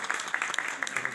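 Applause for a junior quiz competition contestant, a short burst of scattered clapping that runs unbroken through the moment, fairly near and moderately loud.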